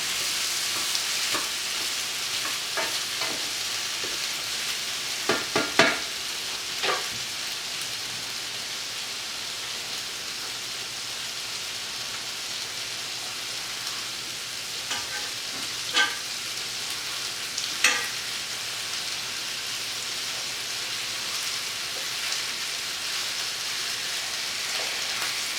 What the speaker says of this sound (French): ça prend de l'huile pour cuire les pommes de terre qui grillent